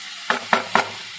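Three quick, evenly spaced scraping stirs as marinated chicken is worked into sizzling spice paste in a pan, each a short bright burst over a faint steady sizzle, close and clear.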